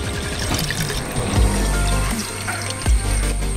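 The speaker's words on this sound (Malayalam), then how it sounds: "1 ലിറ്റർ വെള്ളമാണ് കേട്ടോ ഞാനിപ്പം ഈ ഭരണിയിലോട്ട് ഒഴിക്കാൻ പോകുന്നത്" Water pouring in bursts into a ceramic jar for homemade ginger beer, with gurgling, splashing fill sounds close by and no talking.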